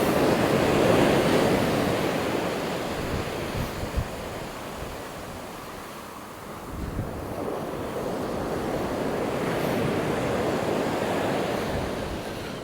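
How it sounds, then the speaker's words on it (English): Stormy surf on the beach at Walcott: continuous roaring waves breaking and washing in, swelling and easing in broad surges, mixed with heavy wind buffeting the microphone. "we're down on the beach and we're walking along the high tide line at the moment"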